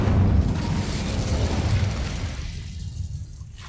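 A fiery Incendio spell goes off in the Hogwarts Legacy video game, a loud whooshing burst of flame with a rumbling low boom that fades out over a few seconds.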